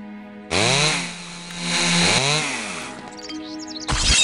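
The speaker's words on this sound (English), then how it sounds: "The chainsaw can also activate." A chainsaw trap in a video game roars to life, its engine pitch swooping up and down in loud, close revving bursts, then a second burst at the end.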